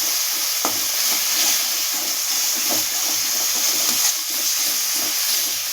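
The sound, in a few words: stirring spices with turmeric in a frying pan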